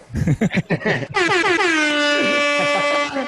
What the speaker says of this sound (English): Give yourself an air horn.